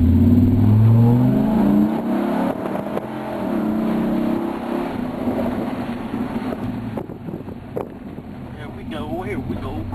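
A Viper truck's engine rumbles and revs as it pulls away and drives, a low, loud, steady drone with heavy wind buffeting and people talking over it.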